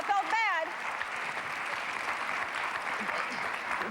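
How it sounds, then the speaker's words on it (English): A studio audience at a talk show claps in dense, sustained applause, following a brief spoken voice at the very start. "Don't waste time clapping"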